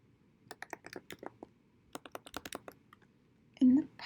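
Short bursts of clicking keystrokes as a username is typed on a computer keyboard, close and clear with pauses between groups of keys, followed by a brief louder thump at the end.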